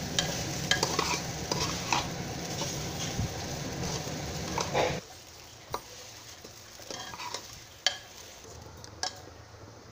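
Rice is stirred and fried with onion in a pan for khichdi, a rice and lentil dish, giving a steady scraping, sizzling patter close up, loud at first and then thinning to sparse clinks and stirs.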